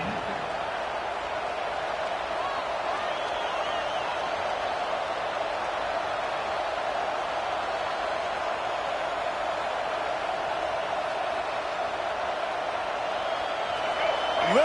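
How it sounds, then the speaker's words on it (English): A large stadium crowd roars in a dense, sustained wash of noise at a Michigan vs Ohio State football game, holding steady and swelling slightly at the very end. "Listen to this crowd just shaking the girders of this place"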